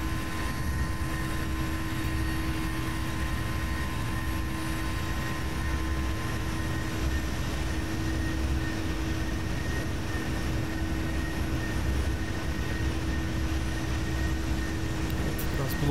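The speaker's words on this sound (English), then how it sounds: "Take-off'ımızı yaptık. Climb'a devam ediyoruz." American Airlines Boeing 737 climbing out of New York in Flight Simulator X: a steady, loud engine drone with a constant hum that stays unchanged for the whole stretch.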